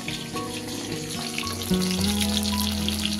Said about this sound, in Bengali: এই যে মাছ ভাজছি এখানে।